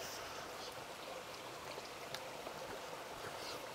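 A river running right beside a stream bank in Hawaii, a steady broadband wash of flowing water with faint trickles and splashes, continuous and close, with no voices over it.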